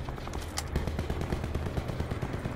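Steady, rapid gunfire on the Alcatraz map in the Call of Duty: Black Ops 4 video game, with dense repeated shots at a moderate distance continuing through the whole stretch.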